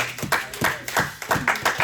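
Church congregation clapping in a steady rhythm, about eight sharp claps spaced evenly over two seconds, with some voices mixed in under the beat.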